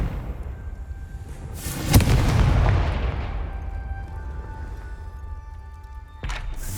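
A Confringo blasting spell explodes in the video game Hogwarts Legacy: a sharp loud crack followed by a rumbling, slowly fading burst, then another abrupt impact near the end.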